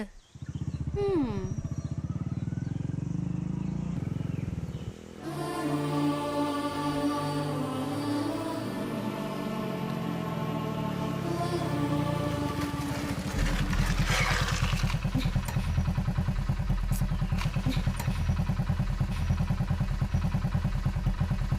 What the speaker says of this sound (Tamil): ரோடு மட்டும் இல்ல பிரியா, பொதுவா 2 பேர் பைக்ல போகும்போது பின்னாடி இவ்வளோ கேப் விட்டு உட்காந்தா பேலன்ஸ் கிடைக்காது.